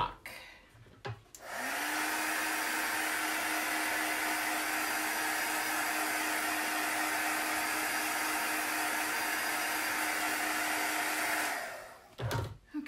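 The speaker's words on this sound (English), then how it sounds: "I might hit it with the dryer just a little bit more" A heat dryer used on craft paint roars steadily for about ten seconds, a loud continuous whooshing hum, with brief clicks and handling noises before it starts and after it stops.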